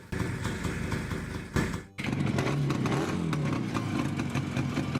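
Adler Favorit 250cc classic German motorcycle engine running steadily, with a brief dip before it picks back up and continues at a constant, close, loud drone.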